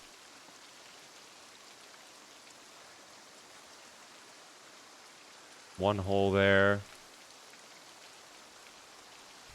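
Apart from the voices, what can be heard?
rain falling in video game Cataclysm: Dark Days Ahead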